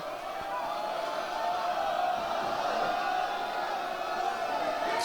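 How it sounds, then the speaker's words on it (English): Wrestling arena crowd during a heel-turn match at Elimination Chamber, a steady, dense roar of many voices sustained throughout with no clear spoken words over it. "Listen to the crowd."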